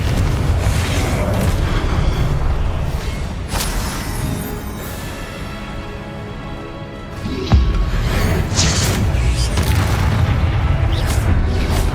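Confringo spell blasts in Hogwarts Legacy combat: repeated loud, booming explosions and fiery bursts roll over a dense din of spell effects, with one especially heavy thump partway through.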